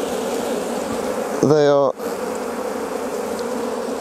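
Honey bees hum at a hive with a full sheet of brood, a steady close drone under a brief spoken phrase.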